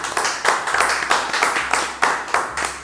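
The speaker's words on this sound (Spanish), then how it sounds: "Aplauso para Café Branch." Rhythmic clapping in a café studio setting, a small group of hands beating in a steady, close, regular pulse of about two claps per second.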